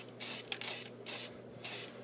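An aerosol spray can paints a small Hot Wheels toy car in light sweeping coats, three or four close, loud hissing bursts separated by brief pauses.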